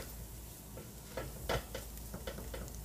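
Butter sizzles faintly in a hot pan while shrimp cook, a low steady crackle broken by a few brief clinks and stirring scrapes, with no talk.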